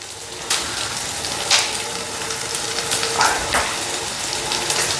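Vegetables sautéing in a pan with salt added to wilt them, a steady soft sizzle with occasional brief scraping stirs, no talking.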